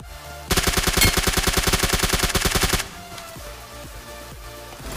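Rapid automatic gunfire in a mobile battle royale shooting game, a loud continuous burst of closely spaced shots for about two seconds, then sparse quieter game sounds.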